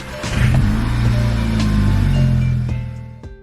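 A VW MK5 GTI engine, fitted with a new throttle body and throttle pedal after P0221 and P0222 codes, turns over and runs as a loud, close, steady low hum. It fades out near the end.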